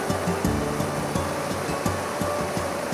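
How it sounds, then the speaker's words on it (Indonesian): A fast river current at Ciletuh Geopark, fed where two waterfalls meet, gives a steady, loud, broadband rush of water with no talking. "Arusnya cukup deras karena hasil pertemuan dari 2 aliran air terjun."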